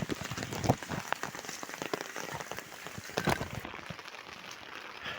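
Morning rain falling steadily around nine o'clock, a dense pattering hiss on surfaces with scattered louder drops, fairly soft and continuous.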